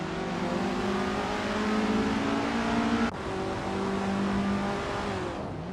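Racing video game cars roar steadily with layered engine drones, several machines close together in a tight pack, a brief gear-shift dip midway before the continuous whine resumes.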